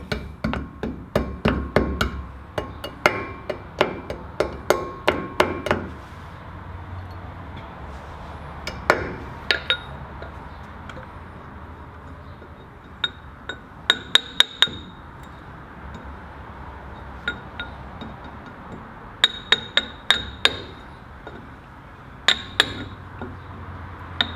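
A hammer taps metal parts on the front brake of a Land Cruiser 80 in sharp, ringing bursts of quick strikes, separated by pauses.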